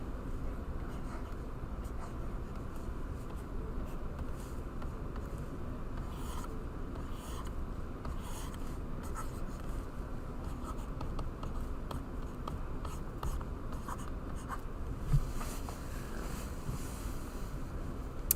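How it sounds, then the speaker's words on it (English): A pen writes the divergence theorem out by hand on paper, producing soft continuous scratchy strokes with short breaks between words and symbols, close and quiet over faint room noise, with no speech. "just start by writing the divergence theorem"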